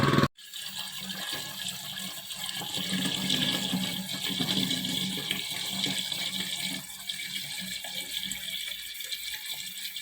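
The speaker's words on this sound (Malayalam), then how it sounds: "ബക്കറ്റിലും പിന്നെ ഒക്കെ കുറച്ച് വെള്ളം പിടിച്ച് വെക്കാനുണ്ടായിരുന്നു" Tap water gushes steadily into a bucket in a village home, a constant rushing pour that starts abruptly and runs without pause.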